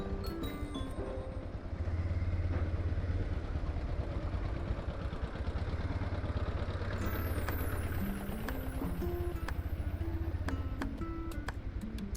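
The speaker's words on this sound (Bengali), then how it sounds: "মাটি ঢালছে মানে ট্রাক্টর।" A tractor engine runs steadily while the tractor dumps soil on a blocked, muddy road, a continuous near rumble that stays even and loud from start to finish.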